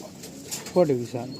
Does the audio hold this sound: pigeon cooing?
yes